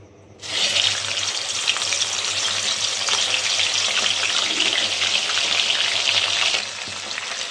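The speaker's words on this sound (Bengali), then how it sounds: "মুড়োগুলো আমি তেলে ছেড়ে দিয়েছি" Fish heads dropped into hot oil for the Bengali dish muri ghonto fry with a sudden loud, steady sizzle that holds evenly for several seconds and then eases slightly, with no talking.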